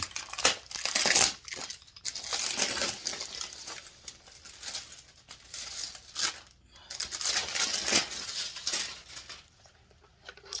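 Plastic packaging from an online shopping haul crinkles and rustles close by in irregular bursts, with louder crackling handling at moments and short pauses between, and no one speaking.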